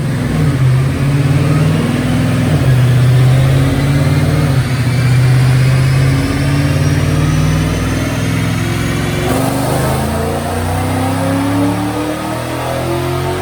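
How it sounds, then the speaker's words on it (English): A supercharged 2014 Ford Mustang Roush RS3 with an automatic transmission, 82 mm pulley and 93 octane fuel revs hard on a dyno, its loud engine note climbing steadily through a sustained full-throttle pull before easing off near the end. "But I think it's time to make a dyno pull. It's an automatic running 93 octane."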